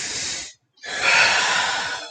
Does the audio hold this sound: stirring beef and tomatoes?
no